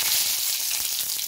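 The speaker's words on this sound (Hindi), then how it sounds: "कड़ी पत्ता डालिए, डाल के थोड़ा सा दूर हटिएगा, ये एकदम फूटता है इसलिए।" Curry leaves hit hot oil with mustard seeds in a pan for upma, giving a dense, bright crackle and hiss that runs unbroken through the short moment, with no talking.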